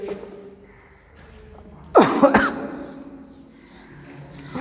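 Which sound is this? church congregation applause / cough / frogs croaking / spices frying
cough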